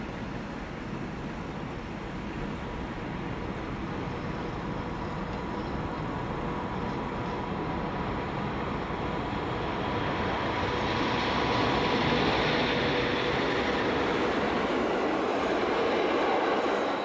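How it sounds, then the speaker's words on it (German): A DB class E10/110 electric locomotive hauling a local train rolls steadily into Amstetten station on the Geislinger Steige, a broad continuous rumble and rush that swells slightly louder toward the end, with faint wheel noise. "rollt 110-234 mit einem Nahverkehrszug in den Bahnhof Amstetten an der Geislinger Steige"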